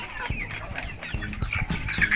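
Golden Kamper chickens, a crossbreed of Pelung and laying hens, cluck in a busy steady chorus on a farm, several birds close by over constant background noise.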